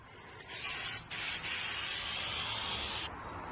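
Hammer tone paint sprays on in a second coat, a steady close hiss in bursts: a short pass, a brief break, then a longer sustained spray before it cuts off.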